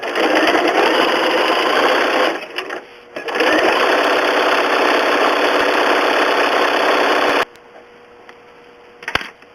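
A sewing machine satin stitching an appliqué moose, a loud, fast, steady mechanical whir that pauses briefly, resumes for several seconds, then stops, leaving faint clicks.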